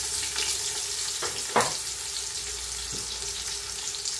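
Onions frying in oil with golden brown, slightly crispy garlic for chicken pork adobo, a steady close hiss of sizzling with a few brief clacks of a utensil against the pan.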